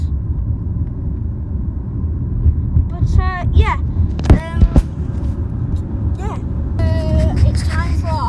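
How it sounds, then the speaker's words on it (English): Steady low engine rumble inside a moving car, constant throughout, with a few brief higher chirps and squeaks on top and a single short spoken word. "And the car sounds like this."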